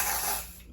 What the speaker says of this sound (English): So I'm gonna spray this on